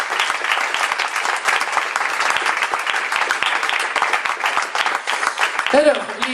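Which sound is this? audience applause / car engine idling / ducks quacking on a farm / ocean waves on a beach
audience applause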